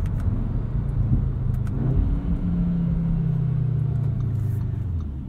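A 2022 Audi S3 drives along, heard from inside the cabin as a steady low engine drone and road rumble, with the engine pitch rising and then holding through the drive.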